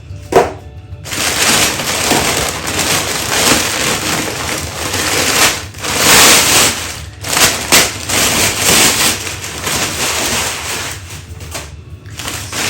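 A Ninja Foodi FlexDrawer air fryer is pulled from its box, with loud, continuous crinkling and rustling of packaging that comes in bursts with brief pauses.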